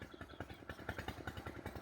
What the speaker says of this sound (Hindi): और सामने देखो ट्रैक्टर चल रहा है